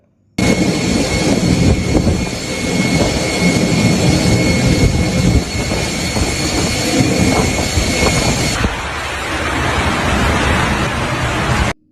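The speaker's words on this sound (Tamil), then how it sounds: "துபாய் ஏர்போர்ட்டில் பெய்த கனமழையால் விமானங்கள் எப்படி பாதிக்கப்படுவது என்பதை இந்த வீடியோவில் பாருங்கள்" Aircraft at Dubai airport in heavy rain: a loud, steady jet-engine roar with dense broadband wash runs throughout, shifting in tone partway through, with no voices.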